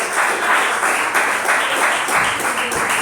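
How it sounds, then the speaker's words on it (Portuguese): A church congregation claps steadily during a worship service on the coming of Jesus, producing dense, loud, continuous applause that fills the room for the whole stretch. "Bate palmas e dá glória a Jesus."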